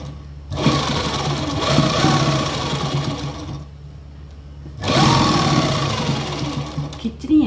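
A sewing machine stitches lace onto fabric in a tailoring workshop, running in two steady bursts of rapid mechanical whirring separated by a short pause, fairly close, with a voice talking lightly alongside.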